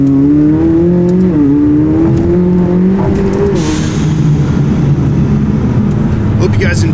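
A 2016 McLaren 570S fitted with ARMYTRIX race pipes revs loudly through its turbocharged engine and exhaust, the pitch climbing and holding in a sustained, close, continuous roar with voices under it.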